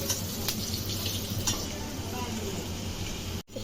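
Chopped garlic fries in a pan until reddish for a jute-leaf dish, giving a steady, close, even sizzle throughout, with a brief stir or clink near the end.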